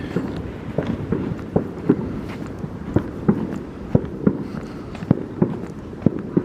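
Sharp bangs and crackles of fireworks go off repeatedly at irregular intervals in Crewe, moderately loud against a steady outdoor rumble, popping nearby.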